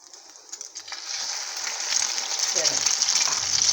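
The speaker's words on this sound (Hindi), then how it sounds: "इसको स्लो फ्लेम पे पकाना है, ज़्यादा तेज फ्लेम पे नहीं पकाना वरना हमारी ब्रेड जल जाएगी" Egg-dipped bread fries as French toast in a pan over a low flame, with a soft sizzle that swells and holds steady, joined by faint background sounds and no clear talking.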